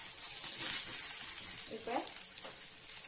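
Brinjal fries in a pan for chutney, making a bright, continuous sizzle of hot oil that eases slightly over time while a voice speaks briefly in the middle.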